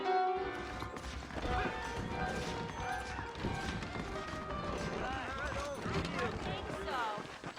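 Saddled horses trot and clip-clop in the Red Dead Redemption video game. The rhythmic hoofbeats are steady and fairly close, mixed with game sound, and a voice speaks over them throughout.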